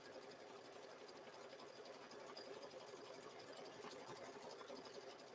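An embroidery machine stitches a zipper bag held in the hoop, giving a steady, fairly quiet whirring hum that runs evenly throughout without pauses.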